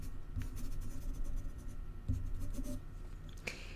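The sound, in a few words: pencil writing on paper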